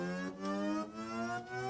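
A raw, crude saw-wave synth tone from a Massive software synthesizer glides upward in pitch, its bright buzzing harmonics rising in repeated swells with brief dips between, alone and fairly loud.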